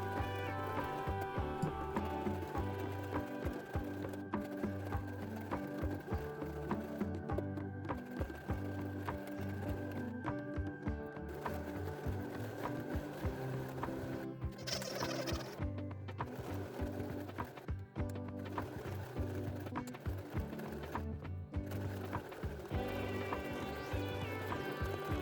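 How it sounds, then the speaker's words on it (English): Sewing machine stitching tote bag pieces, a steady mechanical hum with rapid needle chatter running almost continuously, pausing briefly now and then, fairly quiet and close. "Sew all the way from the top to the bottom for both pieces."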